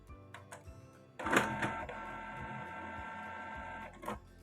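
A Canon printer with a P07 error powering back on: a sudden mechanical whir starts and holds steady for about three seconds with a few clicks and light thumps, heard close and alone.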